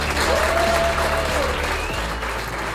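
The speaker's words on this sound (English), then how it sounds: "One more round of applause." An audience at a Yamaha technician grand prix ceremony claps in a loud, dense, continuous round of applause that tapers slightly toward the end, with a faint whistle-like tone over it.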